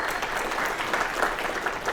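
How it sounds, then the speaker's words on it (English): Continuous applause from a crowd, a dense even patter of many hands clapping at moderate loudness for two seconds with no voices. "Yep, huge round of applause for him."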